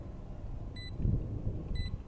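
An Alarm Bot gadget in VALORANT gives two short, high electronic beeps about a second apart, over low in-game rumble and footsteps.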